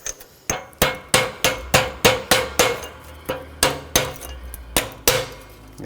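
A 36mm socket struck repeatedly with a hammer to drive out a front wheel bearing race on a 2012-2017 Toyota Camry: about a dozen sharp, loud metallic blows in a steady rhythm, each ringing briefly, with no talk.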